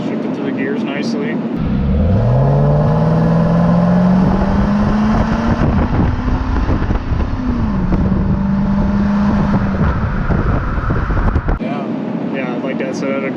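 A steady LS1 V8 engine in a 2000 Chevrolet Camaro Z/28 drones loudly from inside the cabin, its pitch slowly rising and then settling, with a deep factory exhaust note throughout.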